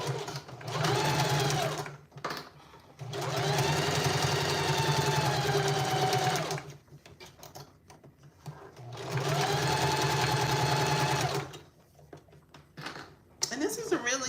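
Sewing machine stay stitching a fabric book or Kindle sleeve: three long, loud, steady runs of rapid whirring stitches, separated by brief pauses and handling noises, close by.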